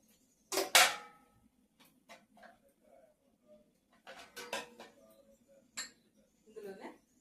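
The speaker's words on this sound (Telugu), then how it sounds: "అలాగే నేనైతే మటన్ అయితే వేసేస్తున్నాను" Pieces of mutton drop into a wide biryani pot with a few sharp clinks and knocks of metal, followed by scattered lighter scrapes and taps, close and intermittent with pauses between.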